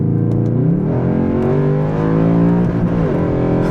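A Mercedes C63 AMG roars loudly under hard acceleration, its engine pitch climbing and dropping through quick paddle-shifted gear changes in one continuous, close, aggressive run.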